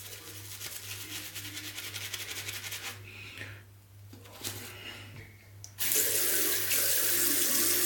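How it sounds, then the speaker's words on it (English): A tap runs water onto a shaving brush at a sink, a steady close rush of flow that dips and changes as the brush moves under the stream, then gushes louder and brighter toward the end, with no voices. "Add a little bit of water to the brush."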